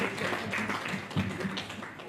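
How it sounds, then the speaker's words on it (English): A crowd claps steadily in a room, a dense patter of applause with some voices mixed in. "Please a round of applause for them again."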